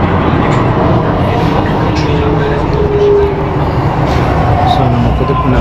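A Delhi Metro train heading toward Qutub Minar runs along its line with a steady, loud rumble and rushing hiss that fills the whole stretch, heard from on board.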